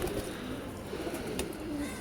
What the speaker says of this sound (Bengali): আমার উড়ানো কবুতর ছেড়ে দিলাম